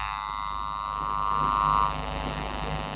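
A washing machine's spin timer and wash motor run together during a wiring test, giving a steady electric hum and buzz with a high whining tone that swells in the middle, and no talking.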